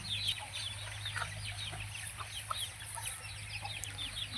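Country chickens clucking softly amid a busy farmyard, with scattered bird chirps over a steady low hum; no voices.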